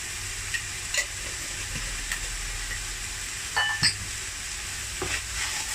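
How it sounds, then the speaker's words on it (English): Omelette filling sauce seasoned with oyster sauce, soy sauce and sugar sizzles softly in a hot pan while a spatula stirs it, with a few sharp scraping clicks against the metal, close and fairly quiet. "Stir it together."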